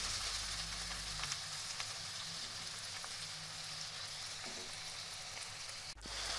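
Carrots cooking with a little water in a pan for a vegetable capcay give off a steady, soft sizzle and bubbling hiss. It runs continuously at moderate level with a brief clatter near the end, and no voices.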